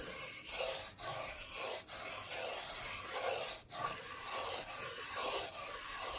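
A wooden spoon stirring roux in a cast iron pot makes continuous rhythmic scraping and rubbing strokes, close and even, with brief pauses between sweeps.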